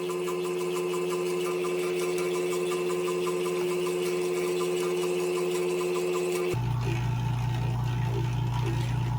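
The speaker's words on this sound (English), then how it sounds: "These motors that come with these vacuum chambers are kind of junk." A vacuum chamber's pump motor hums and buzzes steadily close by, its tone dropping lower partway through as it keeps running.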